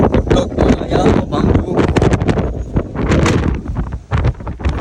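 Strong monsoon wind on Girnar mountain buffets the microphone in loud, gusty roaring blasts that rise and fall, close and harsh throughout.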